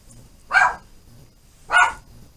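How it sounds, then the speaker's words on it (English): A dog gives two sharp barks about a second apart, moderately close, with no other sound around them. "Oh, there's Annie barking."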